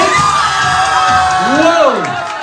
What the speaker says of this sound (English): Big round of applause for ladies and gentlemen